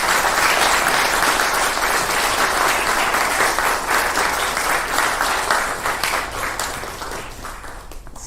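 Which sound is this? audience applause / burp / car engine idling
audience applause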